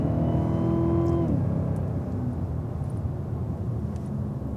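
A Cadillac CTS-V goes through a fast corner on a race track, heard from the cabin. The engine sound is loud and sustained. Its high revs drop sharply as the driver lifts, then it holds a steady, rumbling pull through the rest of the turn.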